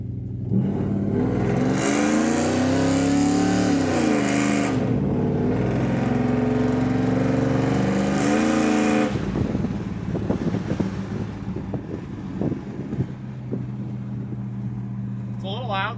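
A loud, rough engine of an old Chevrolet C30 truck revving and droning, with wind noise buffeting the mic, settling into a lower steady rumble with a few rattles.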